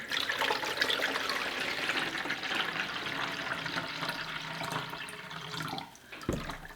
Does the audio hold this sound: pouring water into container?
yes